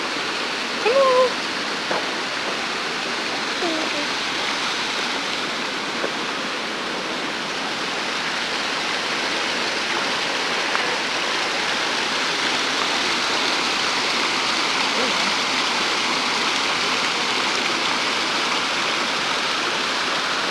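Steady broadband rush of a creek running over rocks near Gatlinburg, continuous and fairly close, with no talking.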